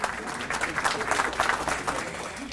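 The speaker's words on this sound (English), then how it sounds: "yes, please clap" A roomful of about 180 lunch attendees at an annual women's awards luncheon claps briefly, a lively, fairly close burst of many hands with small swells in intensity.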